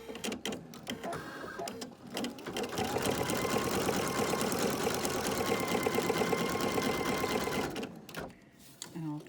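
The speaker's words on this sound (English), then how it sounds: "our first stitch is the border outline for our applique" Embroidery machine stitching the border outline of an appliqué on a daisy trim bin, a steady rapid mechanical whir and clatter that starts after a few handling clicks, runs continuously for several seconds, then stops.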